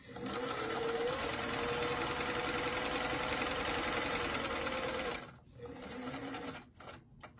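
A sewing machine stitching a doll dress runs steadily with a fast mechanical whir and rhythmic stitching, stitch length set between 2 and 3, then stops and restarts in short bursts near the end.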